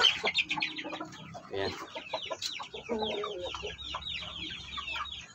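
Chickens cluck busily in a small backyard pen, with repeated short clucks and calls that overlap near and far; a voice speaks briefly.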